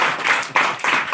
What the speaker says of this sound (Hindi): तो एक बार तालियां नहीं होनी चाहिए।